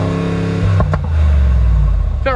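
A Lamborghini engine revs briefly, a loud deep throaty roar that swells and settles, closing with a short rising whine, up close.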